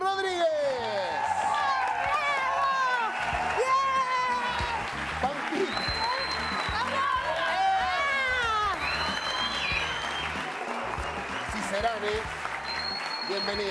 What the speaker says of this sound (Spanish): Fuerte el aplauso para recibir a nuestra invitada en el programa de hoy